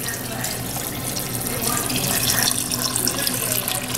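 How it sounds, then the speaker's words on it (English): A tap runs water into a pot of purple hull peas, a steady splashing pour that grows fuller as the pot fills, close by with faint voices underneath. "now I'm going to add some water. Just enough to cover the purple hullers"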